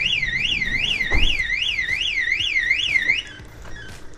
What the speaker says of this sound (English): the alarm will sound and the indicators will flash